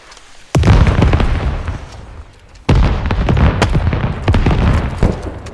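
Two heavy bomb blasts boom loudly in the military shooter Squad, each a sudden burst with a long rumbling tail, the second followed by sharper cracks and pops of distant gunfire.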